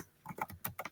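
Fingers type quickly on a computer keyboard, making a short, faint flurry of soft key clicks.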